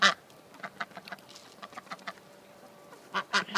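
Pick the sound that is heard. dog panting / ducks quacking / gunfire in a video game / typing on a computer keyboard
ducks quacking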